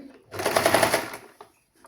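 A brief, close burst of sewing machine stitching on a frock neckline, running about a second before stopping.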